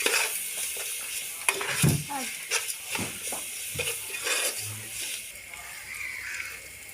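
Chicken curry with ginger-garlic paste sizzles in a pan while a utensil scrapes and stirs in irregular strokes, close by, with occasional clinks of metal against the pan and no talking.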